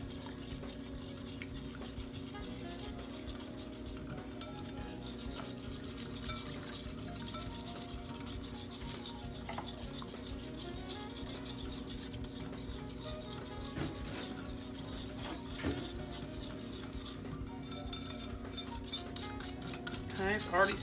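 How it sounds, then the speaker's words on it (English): Metal whisk stirring no-bake pie filling in a bowl, a steady continuous scraping and clinking that runs without pause at moderate, close level, with no talking. "you need to whisk it until it thickens"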